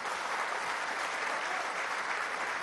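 A crowd at a National Assembly session in Venezuela applauds with dense, continuous clapping, steady and even throughout.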